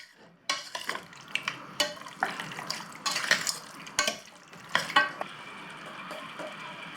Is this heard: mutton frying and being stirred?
yes